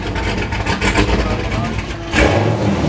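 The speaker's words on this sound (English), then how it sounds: "why my car sound like it could blow her drawers off" Car engine fitted with a stage 6 cam, freshly installed and on first start-up, rumbling steadily and loudly with a lumpy low idle throughout, growing rougher and heavier near the end as people talk over it.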